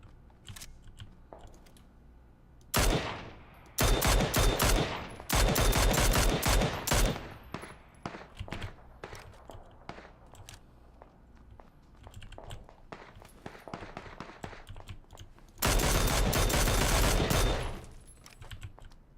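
Automatic rifle fire in PlayerUnknown's Battlegrounds, with dense loud bursts of rapid shots around three to seven seconds and again near sixteen seconds, separated by quieter scattered clicks and footsteps.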